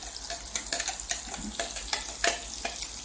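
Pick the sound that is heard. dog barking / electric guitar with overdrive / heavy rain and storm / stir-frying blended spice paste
stir-frying blended spice paste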